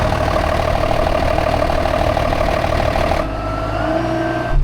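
Farm tractor engine running loud and close with a steady mechanical drone, then the tone drops and thins partway through as the engine settles to a lower idle.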